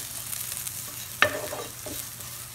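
Curry leaves dropped into hot oil with onion and dried chili, a sharp burst of crackling sizzle midway over a quieter ongoing fry, with a smaller flare shortly after, close and without speech.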